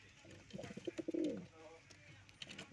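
Male pigeons cooing at home, stirred up by a newly arrived female pigeon, giving a few soft, close, low throaty coos over about a second amid faint background noise.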